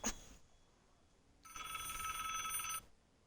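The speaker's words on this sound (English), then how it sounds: "and there's another phone call." A telephone rings for an incoming call, a short chime at the start followed by a sustained electronic ring lasting over a second, clear and alone.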